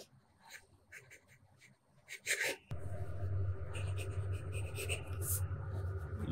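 A purple-inked fountain pen with a medium nib scratches across paper in short strokes, faint and close, then a steadier louder rubbing sweep as the writing continues.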